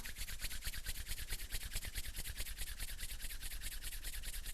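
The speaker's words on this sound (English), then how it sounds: "And then rub the palms together." Palms of the hands rubbing together in a steady back-and-forth rhythm, a soft, close swishing friction repeating rapidly and evenly for several seconds with no talking.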